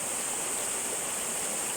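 Steady, even rush of a flowing river with a bright hiss, continuous and close, with no voices or breaks, in Alangan, Limay, Bataan.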